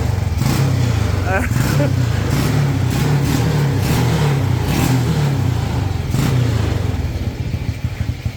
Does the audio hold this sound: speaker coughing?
no